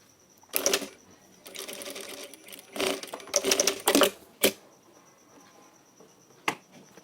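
A sewing machine running a straight seam along the edge of kurta fabric in short bursts of fast, close clatter, separated by pauses and a few sharp clicks.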